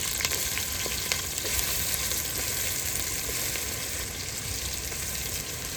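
Onions frying in oil for a masala fish curry, a loud, steady broadband sizzle that holds evenly throughout with a few faint stirring clicks and no talking.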